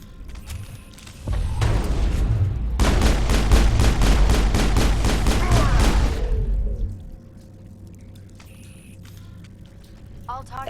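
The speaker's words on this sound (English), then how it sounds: "the discharging of weapons while on company property is strictly forbidden" A rapid volley of weapons fire in the Mass Effect video game, a dense burst of sharp repeated shots lasting several seconds, loud and close, then dropping to a low ambient hum.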